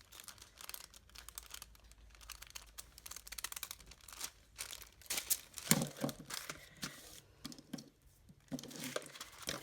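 Parchment paper, a waxy non-stick baking paper, being torn and crinkled by hand up close, with irregular bursts of crackling and ripping that grow denser and louder toward the end.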